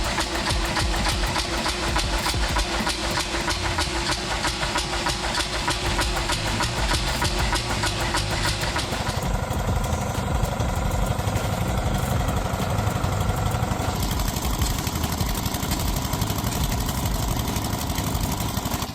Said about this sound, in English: a massive MBI 7828 machine, though looking old, still exudes strength and power